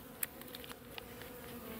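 Honeybees at a hive entrance make a steady, close insect hum with a few brief clicks and taps over it.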